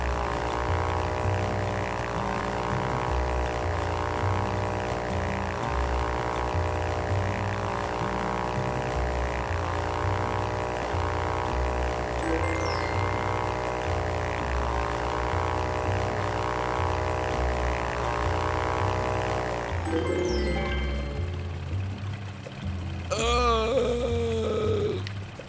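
A propeller airplane engine in the flight video game Ultrawings drones loudly and continuously with a steady buzzing hum, shifting pitch near the end as the throttle changes.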